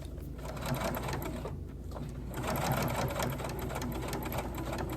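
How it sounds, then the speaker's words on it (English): A sewing machine stitches across the short edge of a wrap skirt, a steady close mechanical whir with rapid needle chatter running for the full few seconds without talk. "So once it's all pressed, you then sew across that short edge."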